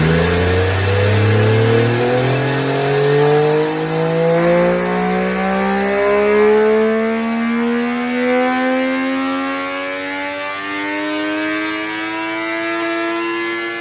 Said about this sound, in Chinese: 下面咱们就进行马力机测试啊